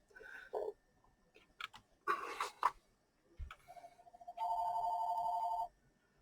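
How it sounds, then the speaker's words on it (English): A telephone rings faintly in the background amid scattered clicks and handling noises during a laptop repair, ending in a steady electronic ring tone that holds for over a second. "I had the phone ringing."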